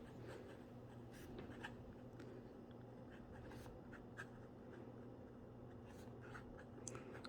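A fountain pen scratches across paper in a quiet room, writing a short line of text in steady, soft strokes with small taps and pauses between words, with a low constant hum underneath and no talking.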